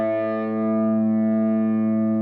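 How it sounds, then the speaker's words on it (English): Sustained, heavily distorted overdriven electric guitar with a 1970s rock tone rings out as a thick held chord, loud and steady for a couple of seconds with no voices. "because of the tone, the distorted sound, before all overdrive 70s rock kind of thing."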